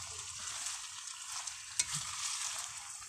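Buro is stirred while sautéing in a pan, a steady close sizzle with soft scraping strokes of the spatula and one brief sharper knock.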